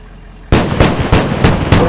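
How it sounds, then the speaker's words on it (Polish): Mortar rounds land in a military shooter game as a rapid series of five heavy, booming impacts about a quarter second apart, loud and close. "Walą w nas mortarami."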